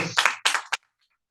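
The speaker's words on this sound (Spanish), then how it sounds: "Un aplauso para los chicos" Scattered clapping from a church congregation applauding the youths, three short bursts of claps close together that stop abruptly into silence.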